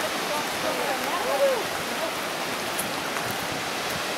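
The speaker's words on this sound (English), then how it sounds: "Walking along some of the running water from the cascade." Running water from the cascade of Peguche Falls in Ecuador, a steady broadband rush heard from nearby along the stream, with faint voices in the background.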